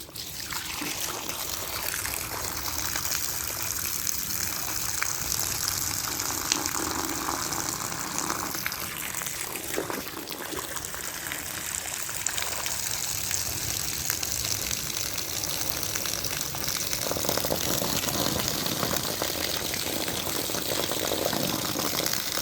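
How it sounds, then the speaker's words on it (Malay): Seawater flows into a pond with steady rushing and trickling, a broad, even wash of sound with no voices. "Air laut sudah naik ke kolam."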